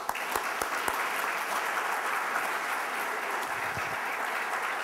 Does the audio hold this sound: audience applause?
yes